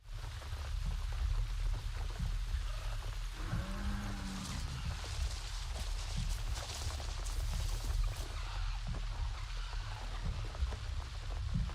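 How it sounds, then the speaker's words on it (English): Rain in the Avatar Frontiers of Pandora video game, a dense steady patter with a low rumbling bed, brief brighter splashy bursts and a faint tonal swirl midway, continuous and fairly loud. "And it's raining, so I want to give you guys... Let me give you guys the rain."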